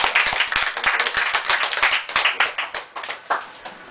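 A small audience breaks into applause with crisp, distinct hand claps. The clapping is close and lively, then thins out and tapers off toward the end.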